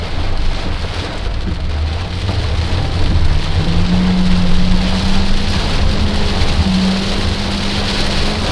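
Heavy rain pours steadily and loudly on a car, a dense unbroken hiss with a low engine drone running underneath.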